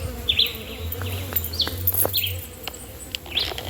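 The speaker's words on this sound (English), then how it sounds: "These bees are not keeping still for me to take their pictures." Bees buzz around a tree stump outdoors, faint darting hums rising and fading as they fly near, with birds chirping in the background and a quiet low drone underneath.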